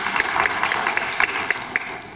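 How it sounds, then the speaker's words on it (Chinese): An audience applauds at a rehearsal event for a Taiwanese opera troupe, a dense, steady clapping that holds throughout, with individual claps popping out of the wash. "掌声欢迎。"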